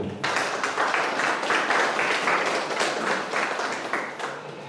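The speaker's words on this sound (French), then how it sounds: "un grand bravo, si on peut les applaudir" An audience at a corporate product event applauds, a dense sustained burst of many hands clapping that swells quickly, holds steady, then begins to fade toward the end.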